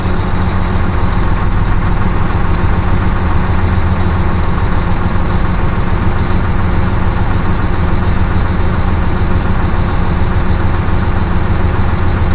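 A Mack semi truck's diesel engine holds a steady high idle, a loud, unbroken low rumble with a constant droning hum and no voices over it.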